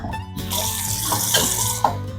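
Water runs from a kitchen tap into a glass to dilute a strong drink, a loud, steady rushing stream that starts after a brief pause and continues without talk.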